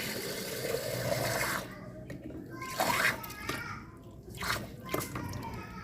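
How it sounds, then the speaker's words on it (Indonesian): Tap water running into a plastic bottle, a splashing, rising trickle that pauses and resumes, heard under a voice speaking. "Kita isi botol pertama ya dengan air yang ada di keran."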